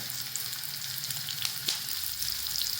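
Gavar kheema made from cluster beans sautés in a pan with a continuous close sizzle and crackle, punctuated by a couple of stirring knocks against the pan.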